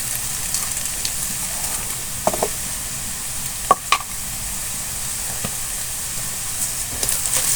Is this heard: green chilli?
yes